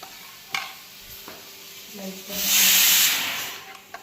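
Lemon salt (citric acid) and black salt stirred into a mixture with a spoon, a soft scraping swirl that rises to a broad hissy peak midway, with a few sharp clinks of the spoon.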